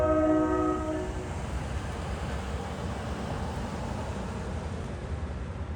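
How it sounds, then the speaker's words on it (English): A New Jersey Transit EMD-hauled train on the Glen Rock mainline, with a short horn blast at the start giving way to a steady rumble of rolling railcars that holds close and fairly loud. "we catch a Waldwick train stopping at the mainline station"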